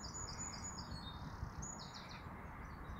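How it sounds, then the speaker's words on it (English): Birds chirp and sing outdoors on a wet, grey morning, their calls fairly distant above a steady low background hiss. "At least the birds are singing and all that, so that's good."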